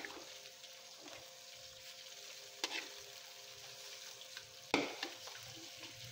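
Garlic fried rice (sinangag) fries in leftover adobo oil with toasted garlic, a quiet continuous sizzle with occasional sharp clatters of a utensil against the pan, close but faint, no talking.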